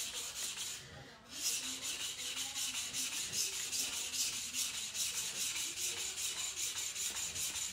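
Knife blade being polished by hand, a rapid, steady back-and-forth scraping rub with regular strokes, close and clear, briefly pausing near the start before resuming in an even rhythm.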